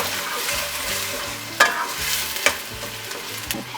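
Garlic and onions hit hot olive oil in a pan, giving a steady close sizzle with stirring scrapes and two sharp clinks of a utensil on the pan.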